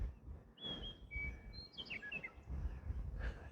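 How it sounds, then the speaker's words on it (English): Outdoor birds chirp and whistle in a few quick bright calls over quiet, faint background rumble. "birds are out having fun."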